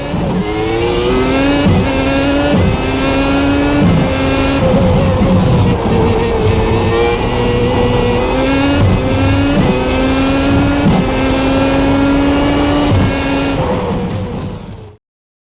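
Race car engine screams through a lap in the iRacing sim, loud and continuous, revs climbing and dropping through repeated gear shifts and corners with no talk.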